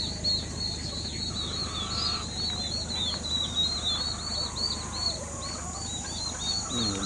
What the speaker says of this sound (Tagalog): ang dami pa namin pabo